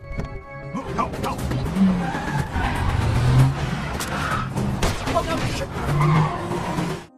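A tense car chase from the film Taken, with roaring engines and repeated tire skids and squeals filling the whole stretch, loud and close, while a voice speaks over parts of it.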